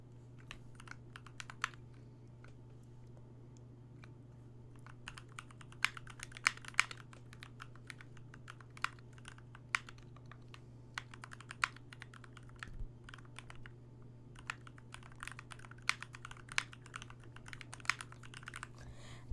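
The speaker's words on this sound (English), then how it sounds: "I'm going to type something in." Keys on a computer keyboard clack in quick irregular bursts with short pauses, close and fairly quiet over a low steady electrical hum, with no talking.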